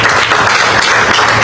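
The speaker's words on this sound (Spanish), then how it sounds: "Vamos a darnos otro aplauso al Señor." Sustained applause from a church congregation during a worship service, a dense steady wash of many hands clapping together, loud and close, with no talk over it.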